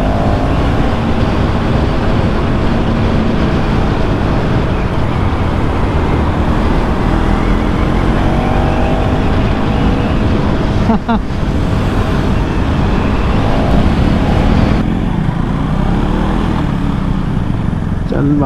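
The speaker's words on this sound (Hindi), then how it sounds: "ये देख रहे हो भाई गाड़ी कैसे निकल रही है" A car drives past amid busy road traffic, with a loud, continuous rush of engine and road noise throughout and a brief sharp clatter midway; voices can be heard now and then.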